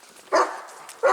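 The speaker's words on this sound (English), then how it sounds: "Dogs everywhere." Two sharp dog barks ring out close by, spaced about three quarters of a second apart, with no other sound between them.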